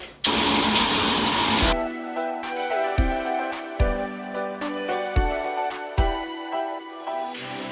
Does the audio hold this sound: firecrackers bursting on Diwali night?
no